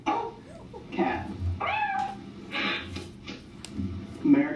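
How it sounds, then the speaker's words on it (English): A domestic cat meows several times in drawn-out, rising and falling calls, fairly close and clear over a faint background. "Cat."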